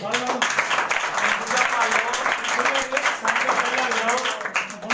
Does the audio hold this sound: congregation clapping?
yes